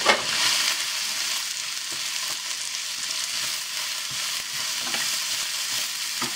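Vegetables sizzle steadily in a hot pan, with occasional scraping and stirring clicks, close and continuous.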